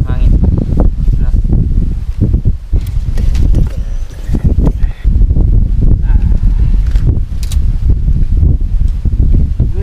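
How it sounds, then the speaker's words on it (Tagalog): Wind blowing steadily at a riverside camp on the Agno River, a constant low rumble and buffeting against the microphone throughout, with someone talking over it. "At ayan, maririnig natin yung hangin."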